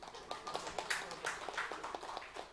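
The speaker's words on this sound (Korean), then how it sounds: "박수 한번 할까요?" A church congregation at a Sunday worship service gives a quiet, loose round of scattered claps. The separate hand strikes land irregularly and sound somewhat distant.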